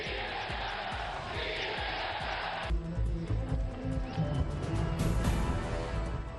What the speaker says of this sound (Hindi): पूरे समारोह के दौरान गूंजते रहे भारत माता की जय और वंदे मातरम के नारे